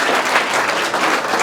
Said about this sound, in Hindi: हमारे रिंकी जी के लिए एक जोरदार तालियां